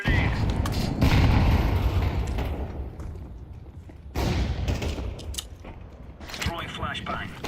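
Grenade blasts and gunfire in Counter-Strike, two heavy booming bursts with a rumbling tail, separated by busier stretches of shots and game effects, loud and close.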